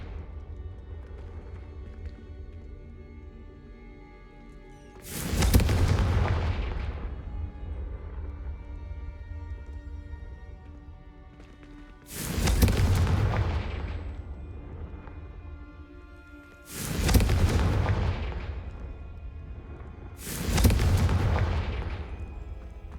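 Four booming fire-spell blasts from the Confringo spell in Hogwarts Legacy crack out at spaced intervals over a low game ambience, each a sharp loud burst trailing off into a rumbling decay.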